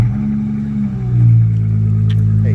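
A Dodge Challenger engine fires up and revs close by, a loud steady rumble swelling midway and then holding at a raised idle, with no talking over it.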